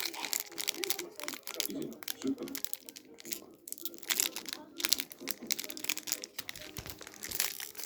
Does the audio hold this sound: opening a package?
yes